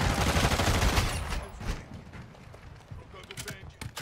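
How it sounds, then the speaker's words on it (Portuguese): A Lockwood 300 shotgun fires in Call of Duty Modern Warfare 2, a loud burst of blasts at the start followed by quieter clattering game sounds and a few later sharp hits. "E saiu dois tiros juntos"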